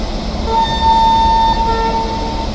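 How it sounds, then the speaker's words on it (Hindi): A locomotive horn sounds in Train Simulator (Railworks 2023) as a Saurashtra Mail train prepares to depart, one loud sustained tonal blast held for about a second over a steady low engine rumble. "दोबारा से हॉर्न बजाकर डिपार्ट करते हैं यहाँ से।"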